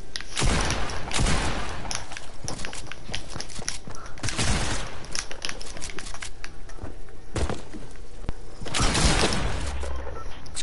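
Video game gunfire comes in dense rapid bursts and single sharp cracks, loud and close, firing almost continuously with short pauses between volleys.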